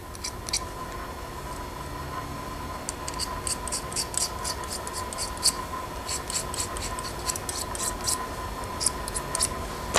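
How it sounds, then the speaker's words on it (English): Scraping oxide off metal wire leads of a homemade vacuum tube, repeated short scratchy strokes in irregular bursts, close and fairly faint over a quiet background hum. "First, I'm going to clean the oxide off of here"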